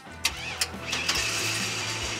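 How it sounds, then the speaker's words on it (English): A car engine cranks and catches after a jumpstart from a MiniMax portable charger, a couple of sharp clicks followed by the motor turning over and settling into a steady idle nearby. "I'm going to jumpstart all seven of them with nothing but the power of the MiniMax"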